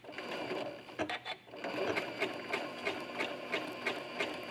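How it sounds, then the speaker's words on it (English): A sewing machine runs a very small zigzag stitch to attach a quilting applique, giving a quick, even mechanical chatter that is close and continuous apart from a brief pause. "And here we're going to use a really small zigzag stitch."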